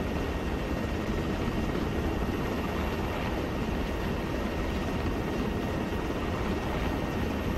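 Helicopter in a military shooter video game, a steady droning rotor and engine roar that holds constant and loud throughout, with no talking.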